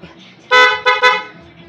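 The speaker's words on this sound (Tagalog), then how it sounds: "Busina." Dual horn on a Honda RS 125 Fi motorcycle, close and loud, sounding three short honks in quick succession with brief gaps between them.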